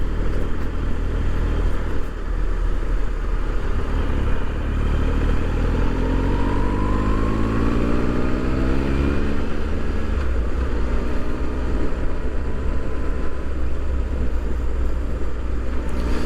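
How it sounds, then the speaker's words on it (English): A Harley-Davidson Fat Boy motorcycle rumbles steadily while riding, its engine note sweeping up and down through gear changes over constant road and wind noise. "This is indeed a great bike. I know it doesn't sound like a Harley"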